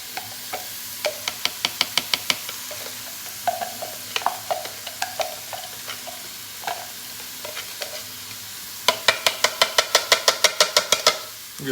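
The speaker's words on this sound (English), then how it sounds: "And we'll stir this around. And we'll saute it for, I don't know, 3-4 minutes" Onion and peppers sautéed in a pan for crock-pot chili, a quiet sizzle under bursts of rapid rhythmic clacking as a utensil beats and scrapes against the pan, close up, with a long fast run of taps near the end.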